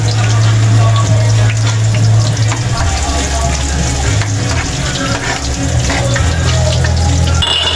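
Garlic is stirred in a sizzling pan while cooking Filipino pork adobo: steady frying hiss with scraping and stirring noises over a low hum throughout.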